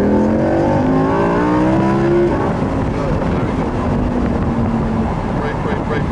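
A race car on a track is driven hard at full throttle, its engine note climbing steadily in pitch and then holding a loud, sustained roar as wind and road noise build, with a driving instructor talking over it.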